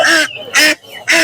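Ducks at a poultry market give three loud, harsh honking calls in close succession, each separated by short pauses of quieter background chatter.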